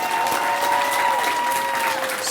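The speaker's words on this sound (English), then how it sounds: "Let's celebrate one more time and give a round of applause for that." An audience applauds at a school ribbon-cutting ceremony for a new elementary school, a brief, dense burst of many hands clapping together close by.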